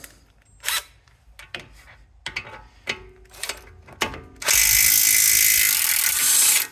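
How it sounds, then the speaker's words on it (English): Two spanners, 15mm and 17mm, work a bolt loose on a Range Rover Evoque/Freelander 2 during transfer box and front diff removal: scattered metallic clicks and clanks, then a loud sustained harsh burst near the end. "for this one we need a 15mm spanner on one side and a 17mm on the other"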